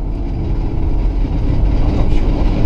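A 1970 Oldsmobile 442 W-30 on a test drive gives off a steady, loud clattering and grinding from its rear end, a continuous rumbling rattle under the driving noise.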